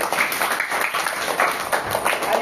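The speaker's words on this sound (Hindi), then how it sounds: "वेरी गुड, ताली हो जाए उसके लिए।" Brief burst of applause from a classroom of schoolchildren, scattered clapping at moderate volume lasting a couple of seconds.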